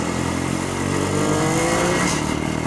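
A motorcycle is ridden with its engine droning steadily under load, close and fairly loud, with no voices.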